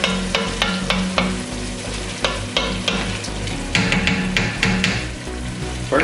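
Ingredients for a one-pot beef stroganoff are scooped into a pot, giving repeated close scraping and stirring scrapes with a steady sizzling frying bed underneath, no talking.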